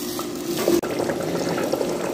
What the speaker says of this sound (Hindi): गोश्त को भून के अच्छे तरीके से, तो थोड़ा सा पानी डाल के अभी मैं इसको थोड़ा सा गला लेती हूँ